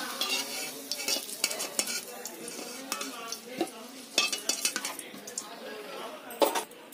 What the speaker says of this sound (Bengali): আলু আমার ভাজা হয়ে গিয়েছে, এবার তুলে নিচ্ছি।